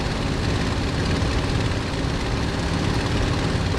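Messerschmitt BF109 piston engine climbing out after takeoff in Microsoft Flight Simulator, a dense, loud, unbroken roar at constant power, no voices.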